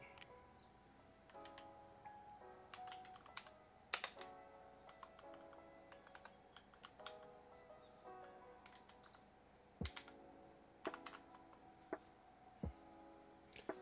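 Fingers type on a computer keyboard in a steady run of clicky keystrokes, with occasional louder key or spacebar hits standing out, all fairly close and with no talking.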